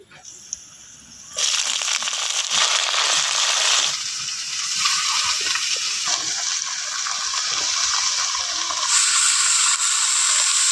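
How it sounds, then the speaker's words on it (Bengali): Washed, chopped cabbage dropped into a pan of chilli and cumin frying in oil for a vegetarian cabbage ghonto, a loud sudden hiss that becomes a steady, close crackling sizzle after a quieter opening. "এর মধ্যে এবার আমি কেটে ধুয়ে রাখা বাঁধাকপি দিয়ে দেবো"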